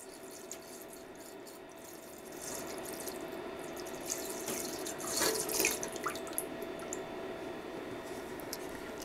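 Liquid is poured into a resin printer wash station to cover a printed model, giving a soft steady trickle and splash that swells midway and continues faintly, with no speech.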